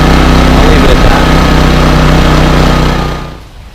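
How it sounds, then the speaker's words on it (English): A portable generator used for full-time RV living runs loud and steady at close range, its constant engine drone cutting out and fading over the final half second. "Knowing how to operate the generator makes it run much smoother."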